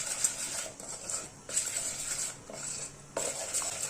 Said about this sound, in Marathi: तर मी इथे 2 चमचे कॉर्नफ्लॉवर घेणार आहे। छान थोड्याशा दुधात मिक्स करून घ्यायचे।